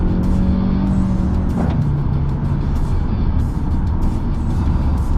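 Car cruising at 100 km/h on Dunlop LM705 tyres, a steady broadband road and tyre roar with low engine drone throughout, close and continuous inside the cabin, with no talking.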